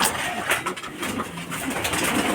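Pigeons coo steadily inside a dove house, a soft, continuous chorus of throaty, rolling calls from several birds close by, with no talking.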